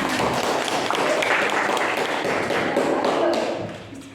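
A classroom of students claps hands together in a brief burst of dense, slightly uneven applause with tapping and thumping mixed in. It stays fairly loud before fading at the end, with voices under it.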